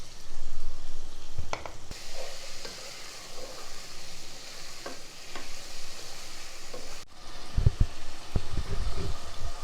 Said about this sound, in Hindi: मैंने इसे अच्छे से भून लिया है।